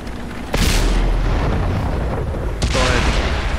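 Heavy artillery booms in World of Tanks: two loud, close blasts with long rumbling tails over a constant roar of battle noise.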